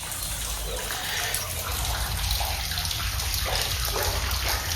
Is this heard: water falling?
yes